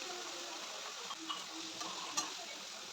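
Chopped fenugreek leaves and garlic being stir-fried in hot oil, a steady soft sizzle with occasional light scrapes and clicks of a spatula against the pan, close and fairly quiet.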